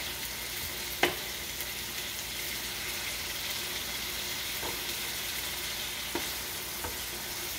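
Hamburger meat browns in a pan with a steady, loud sizzle, broken by a few sharp taps as it is stirred.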